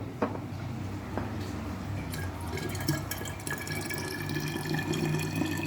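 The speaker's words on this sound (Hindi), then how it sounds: "अब हम इसको बोतल में डाल देंगे।" Homemade falsa fruit juice is poured into a bottle, a continuous liquid trickle and filling gurgle with a few drips and clinks, close and steady, with no talking.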